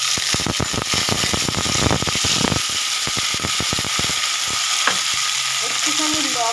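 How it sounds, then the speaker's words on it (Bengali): Onion, tomato, whole cumin and a bay leaf frying in oil, with a close, continuous sizzle and a rapid run of stirring scrapes and clicks that thins out toward the end. "ভাজা ভাজা হয়ে গেছে পেঁয়াজ, টমেটো, জিরে, তেজপাতা"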